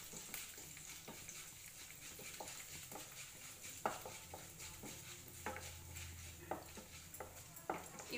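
Urad dal and dried red chilies frying in a pan for a banana flower curry, giving a soft steady sizzle broken by scattered stir clicks and utensil taps, close and fairly quiet.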